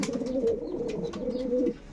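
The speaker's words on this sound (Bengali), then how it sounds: "এই যে নর পায়রা আর মাদি পায়রাটা শখ করুন। এই দুটো হচ্ছে ম্যাটাস পায়রা" A pair of Matas pigeons, a male and a female, coo in a low, close, continuous rolling murmur that fades at the end.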